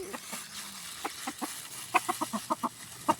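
Chickens feeding at a house in Davao cluck in a series of short, sharp calls, close and moderately loud, with soft scratching and ambient noise between them.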